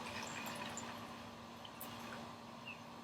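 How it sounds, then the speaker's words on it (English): Warm water, heated on a stove, is poured into a cup as a faint, steady trickling wash heard alone at low volume. "And we're going to pour that into our other cup."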